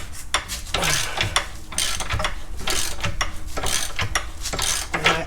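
A socket wrench ratchets on a Toyota Sienna trailing arm bolt with a slightly oversized socket, giving close, loud rhythmic clicking bursts in quick repeated strokes and no speech.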